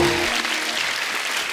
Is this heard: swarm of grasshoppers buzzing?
no